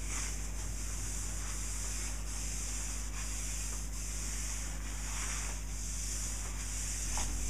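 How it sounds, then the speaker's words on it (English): A rag rubs excess Danish oil off a wooden surface in steady back-and-forth swishing strokes, close and continuous, with a soft rhythmic hiss on each pass and no talking. "wiping off the excess"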